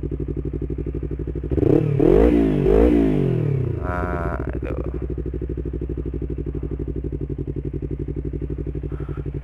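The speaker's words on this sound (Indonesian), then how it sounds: "lo dengar tuh suara knalpotnya?" A Yamaha R25 motorcycle idles with a fast, even exhaust burble, briefly revved twice in a loud rising-and-falling blip, then settling back to a steady throbbing idle; someone speaks briefly over it.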